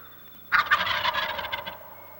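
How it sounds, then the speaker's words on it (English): A single loud wild turkey gobble from a male, a rapid rattling burst of bird calls lasting about a second, close by after a brief quiet moment. "The gobble is a sound that the male or the tom emits to attract hens"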